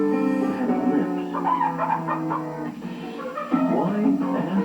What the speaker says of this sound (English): Chickens have lips.